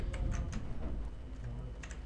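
Continuous typing on a computer keyboard while entering text in MS Word, a steady run of close, fairly loud key taps with no pauses.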